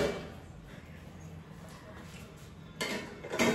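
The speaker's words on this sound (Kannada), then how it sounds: "ಈಗ ಅದ್ರ ಮೇಲೆ ಒಂದು ತಟ್ಟೆ ಮುಚ್ಚಿಬಿಡೋಣ" A plate is set over a pan as a lid in a home kitchen while making biscuits, giving soft clinks and a louder scrape of crockery near the end against quiet room noise.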